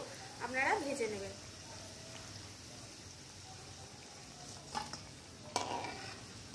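Onion pakoras are fried in oil and lifted out, a faint, steady sizzle with a few soft scrapes and clinks from the utensil, while a voice briefly speaks near the start.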